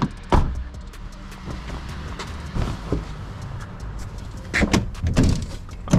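Closing up a Dodge Magnum with a Hellcat swap, marked by several close, sharp door thunks and latch clicks, one early and a cluster near the end, over a quiet garage background.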